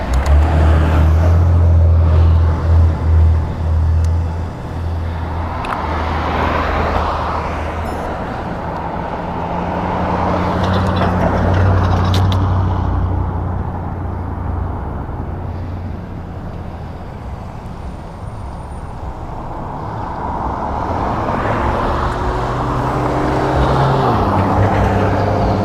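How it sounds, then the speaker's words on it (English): Continuous road traffic heard from close by, with a heavy low engine rumble and swelling passes of cars and larger vehicles rising and fading over half a minute, no voices. "It's beginning to look a lot like traffic everywhere I go."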